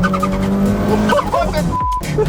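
A Mitsubishi car with a small 4-cylinder engine accelerates hard, its engine note loud and close, with a brief tire squeal and some cabin noise.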